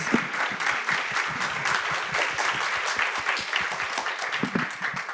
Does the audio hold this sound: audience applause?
yes